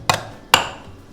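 Two sharp knocks of a knife cutting through food on a board for Florentine rice pudding, about half a second apart, close and crisp with a short ring after each.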